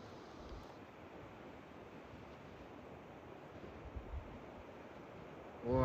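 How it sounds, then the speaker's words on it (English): A roaring waterfall along a long hiking trail, heard as a continuous dense rush of falling water mixed with some wind buffeting on the microphone, steady throughout with a louder gust at the end. "Absolutely roaring waterfall."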